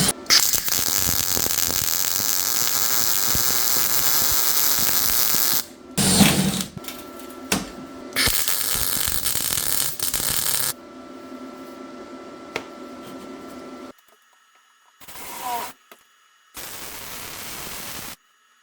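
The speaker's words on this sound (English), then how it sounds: "I just gonna do a little bit of plug welding, and that'll be pretty much it for this rocker." YESWELDER 165A MIG welder plug welding a car rocker panel in an autobody setting: loud crackling, hissing arc bursts of varying length, separated by short pauses and quieter stretches.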